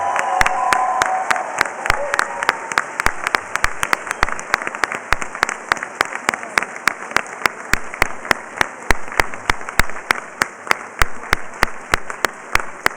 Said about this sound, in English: let's everybody join in another big round of applause for all of our graduates